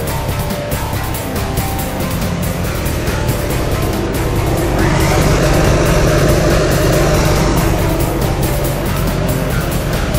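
A 2008 GMC 3500 diesel pickup running on HHO idles with a steady, loud engine rumble and hiss that continues unbroken throughout, with no talking.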